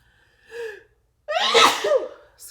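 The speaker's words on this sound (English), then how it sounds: "And I'm going to sneeze." A single loud sneeze, preceded by a quick sharp inhale, close and alone in a quiet room.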